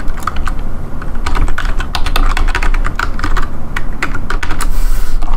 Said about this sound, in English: I could type out the email that I expect them to use.